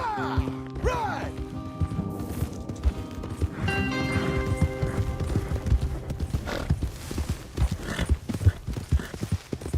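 Horses in the video game Red Dead Redemption 2 gallop with rapid, close clip-clop hoofbeats, a whinny rising early on and tonal game music underneath, with light talk in the background.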